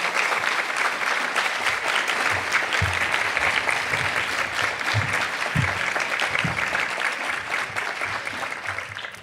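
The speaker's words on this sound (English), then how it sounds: "Can we give them one more round of applause?" A crowd gives sustained, even applause for honored educators at a school district Educator of the Year ceremony, a dense, continuous clapping that fills the whole stretch without talk.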